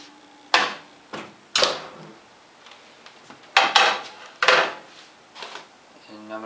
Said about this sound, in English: And I'm going to put it in on a cooling rack.